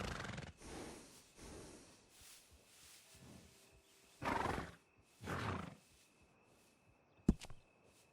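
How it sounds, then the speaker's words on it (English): Horse in Red Dead Redemption 2 making a pair of loud snorting, breathy bursts between quieter movement sounds, with a sharp click near the end; no talk over it. "And a fine new horse."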